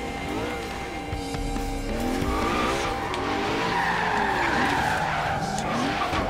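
A car in Forza Horizon 3 skids and spins out, tires squealing loudly over a steady engine roar that holds throughout without a break.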